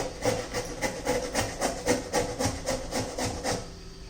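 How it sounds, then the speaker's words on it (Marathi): Bottle gourd is grated by hand in a kitchen, a rhythmic series of rasping strokes roughly every third of a second, close and clear with no voices. "आता हा दुधी भोपळा आहे आपण किसून घेणार आहोत"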